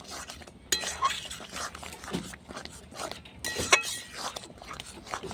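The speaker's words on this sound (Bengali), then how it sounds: "এবার ঢেলে নেব এটাতে ছোটো গামলি নিয়েছি এর মধ্যে ঢেলে নেব" Cooked sour spinach made with prawns is poured and scraped into a small bowl, with soft clinks and scrapes of a utensil against metal, faint and close, in scattered irregular bursts.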